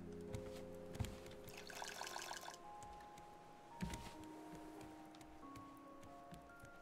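Water pours into a bottle in the survival game Raft, a faint gurgling trickle with drips over soft game ambience and tonal hums.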